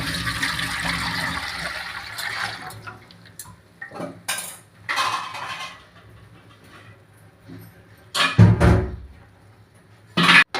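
Carrot halwa mixture poured from a vessel into an uruli pot on a stove, giving a run of soft wet sloshing and scraping with clattering metal knocks, including a louder clang near the end.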